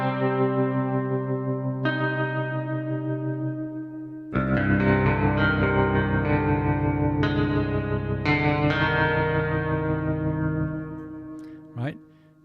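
Vintage 60s–70s style guitar tones from a Kontakt sample library, sustained chords that swell with echo and chorus-like shimmer, changing several times at a moderate level and ending with a brief pitch-bending tail.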